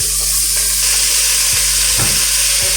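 Chopped vegetables sauté in a pan with a loud, close, steady sizzle, and a few stirring scrapes punctuate it at intervals.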